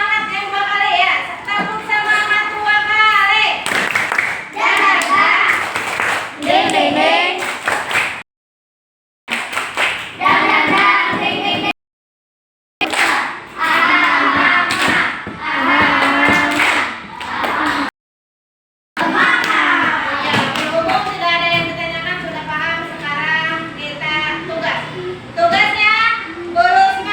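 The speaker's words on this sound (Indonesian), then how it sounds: "Tepuk semangat dua kali." Third-grade children in a classroom doing a rhythmic spirit clap, bursts of group clapping in patterned beats mixed with chanting young voices, close and lively, broken by brief silences.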